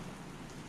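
Rain falling as a quiet, steady patter and hiss, brief and unbroken, with no voices over it.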